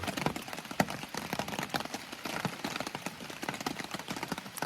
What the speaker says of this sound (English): the rain's not stopping until probably 9:30 or 10